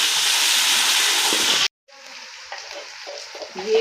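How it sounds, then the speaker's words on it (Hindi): Onions fry in a pan, starting with a loud, dense hiss and sizzle. The sound cuts out briefly, then returns as a quieter sizzle with light stirring clatter. "अब प्याज फ्राई करेंगे।"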